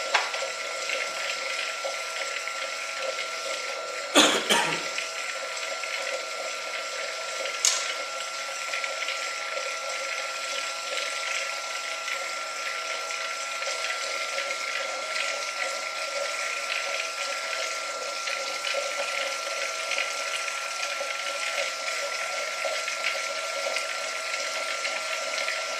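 A stirrer mixes a copper nanoparticle reaction from a water and polyol synthesis, producing a faint, steady mechanical whir that runs unbroken, with a brief clatter early on and a small click later.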